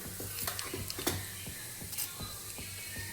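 Split urad dal fries in hot groundnut oil, giving a steady close sizzle with light, irregular ticks and scrapes of stirring throughout; no voices.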